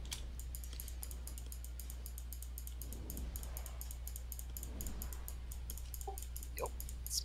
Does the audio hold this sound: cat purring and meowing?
no